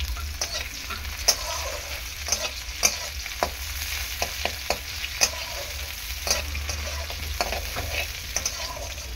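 Onion and a whole dried red chili frying in oil for a ridge gourd dish, a steady close sizzle with sharp scraping stirs and clicks at irregular intervals throughout.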